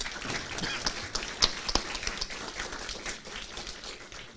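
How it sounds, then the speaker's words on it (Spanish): Faint, sparse clapping from a small audience welcoming a guest at a talk on press and public safety, scattered individual claps with a couple of sharper hits. "Yo les pido que lo recibamos con un aplauso"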